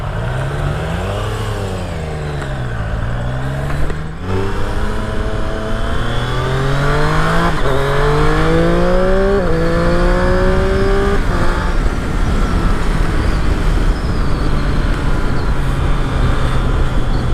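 Triumph Street Triple RS motorcycle ridden hard, the engine climbing through several rising rev sweeps with gear changes between them, then settling into a loud, steady wind-blasted riding drone.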